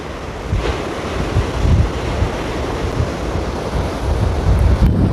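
Sea waves wash against the rocky shore below a coastal viewpoint at Muttom, Kanyakumari. The surf is a continuous loud roar with heavy wind rumble on the microphone, swelling and easing without any voices.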